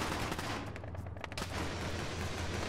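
Gunfire in the military video game Arma 3, a dense, continuous rattle of rapid shots and bursts, loud and close, filling the whole stretch without pause.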